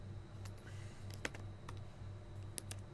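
Soft keystrokes from typing on a computer keyboard while coding, quiet and irregular with a few sharper clicks over a low background hum, with no talking.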